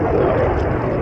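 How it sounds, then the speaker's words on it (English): An F-16 fighter jet roaring over a marsh, a loud, dense, continuous engine rumble filling the whole moment with no break. "F-16 out of Truax field there, the fighter wing"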